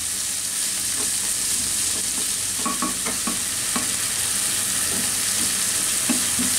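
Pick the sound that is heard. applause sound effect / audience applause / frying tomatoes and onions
frying tomatoes and onions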